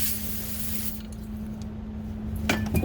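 Brake cleaner sprayed from an aerosol can onto a Ford 6.7 diesel EGR valve part in a garage: a steady close hiss for about a second, then quieter workshop noise with a few light metallic clinks near the end.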